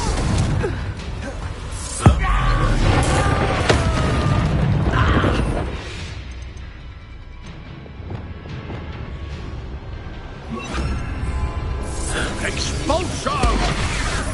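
Expulso blasting spells in Hogwarts Legacy, played on PS5: a sharp booming burst around two seconds in, set among dense game music, spell effects and crashing combat noise, with a voice calling out spells.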